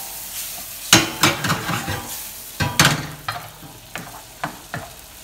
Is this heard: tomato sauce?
yes